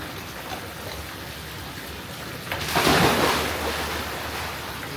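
Small waterfall splashing into a little pool on a sunny day, a steady broadband rush that swells louder midway through, with no talking.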